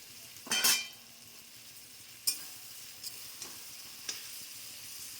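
Cauliflower and potato frying in a pan, a soft steady sizzle with a loud spatula scrape early on, then a few sharp clicks of utensil against the pan, close and quiet, no talking.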